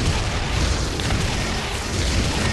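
Grenade blast in Metal Arms, a dense loud booming roar with heavy low rumble that fills the whole moment without a clear single onset.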